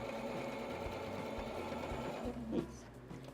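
A sewing machine stitching a fabric bag, running as a continuous close mechanical whir and rattle that eases off toward the end.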